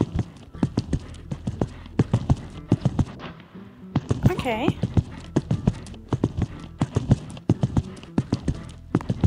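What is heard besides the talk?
horse hooves clip-clop in video game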